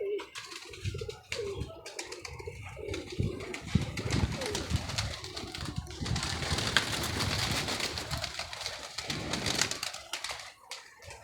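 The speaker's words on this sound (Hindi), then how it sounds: "ये हमारे घर के कबूतर" Domestic pigeons coo softly and repeatedly nearby at home, mixed with rustling, fluttering and scratchy movement sounds.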